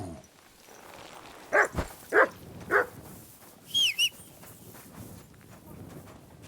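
A dog barking in Kingdom Come: Deliverance, three sharp barks followed by a couple of higher yelps, fairly close and loud over quiet hoof and ambient background.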